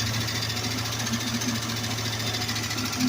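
An old Plymouth Fury sitting in a salvage yard idles on its own after being coaxed to start, its engine giving a steady, even, slightly rattling chug close by, with no voices.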